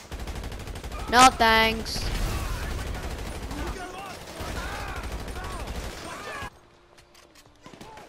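Gunfire from upgraded Mark II weapons, including a Mark II shotgun, in the video game GTA V: a short burst of sharp shots early on, followed by game sounds and a voice talking, with quieter background sound toward the end.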